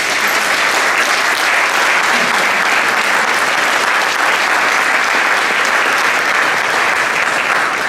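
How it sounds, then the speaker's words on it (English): Sustained, loud audience applause fills an NYU graduation ceremony, a dense steady wash of clapping hands from a large crowd that holds an even level from start to finish with no talking over it. "they deserve a huge round of applause."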